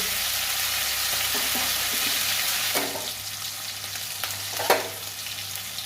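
Green chilies, shrimp and turmeric fry in a pan, giving a continuous loud sizzle with a few clinks and stirring scrapes mixed in, heard alone without any voices.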